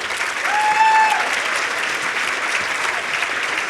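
Audience at a women in business breakfast applauding steadily and continuously, a dense even wash of clapping from a room full of people with a faint tonal whistle early on.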